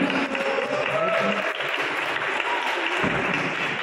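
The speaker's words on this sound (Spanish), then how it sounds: "Un aplauso para Leticia Calderón" Audience applause fills the room at a press presentation of the cast of the telenovela El Amor Invencible, a steady, loud wash of clapping that continues throughout with some voices mixed in.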